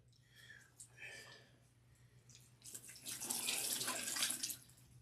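Warm water runs from a portable sink during hair washing, swelling into a loud, steady splashing flow midway after softer trickles, with faint whispery voice sounds early on.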